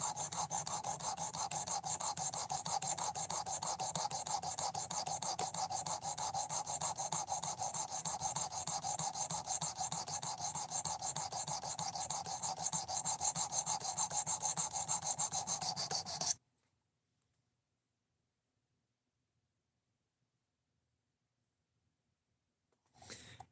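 A knife blade is worked on a coarse 220 grit sharpening stone, giving a steady, close scraping rasp of rapid rhythmic strokes that runs for about sixteen seconds and then stops into near silence.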